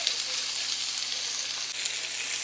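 Drained, rinsed artichoke hearts and beans sizzling in hot oil in a pan, a loud, continuous close crackle with no talk over it.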